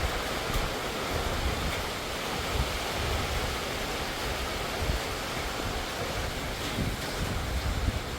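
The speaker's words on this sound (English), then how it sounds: "If it keeps up this pace of rain, it will run down the creek." Steady rain falls on a ranch as a dense, continuous hiss, with gusty low rumbles of wind buffeting the microphone and no voices.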